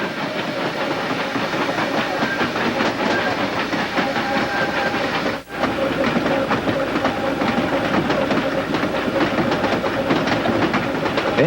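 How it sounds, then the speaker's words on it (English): Three-car Tweetsie steam train of the ET&WNC railroad, engine number 12 with combine car number 15, rolling down State Line Hill: steady, loud close rumble and rhythmic clatter of wheels with hiss, briefly dipping once midway. "the three-car train comes down State Line Hill"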